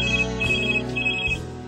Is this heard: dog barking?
no